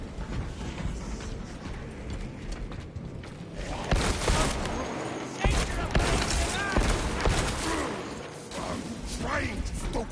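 Gunfire in Warhammer 40,000: Space Marine 2, dense bursts of shots and clanking impacts mixed with game noise, fairly loud and continuous through the middle of the clip.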